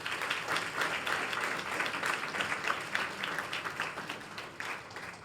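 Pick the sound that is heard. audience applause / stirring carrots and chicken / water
audience applause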